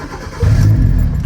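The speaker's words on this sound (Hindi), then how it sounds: "अल्हम्दुलिल्लाह first self start for you" A Toyota 3SGE car engine starting on its own, a brief quiet crank giving way to a loud, steady low idle that settles in close by.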